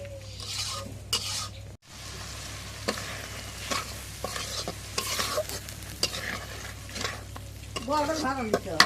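A spice paste of onion, cumin and garlic sizzles in a pan for catla fish bhuna while a spoon scrapes and stirs in irregular strokes, close and clear, with the frying growing busier toward the end.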